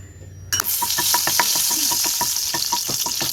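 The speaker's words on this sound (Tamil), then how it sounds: "எண்ணெய் சூடாயிட்டு ஒரு சின்ன துண்டு பட்டை எடுத்திருக்கேன் அதை சேர்த்துப்போம் ரெண்டு கிராம்பு ரெண்டு ஏலக்காய்" Cinnamon stick, cloves and cardamom hit hot oil and burst into a loud, steady sizzle that starts abruptly and keeps crackling with sharp pops up close.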